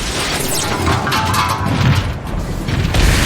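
Heavy artillery fire in the robot war game Transformers: Fall of Cybertron, with deep booming impacts and mechanical clatter rolling through a loud, dense battle mix.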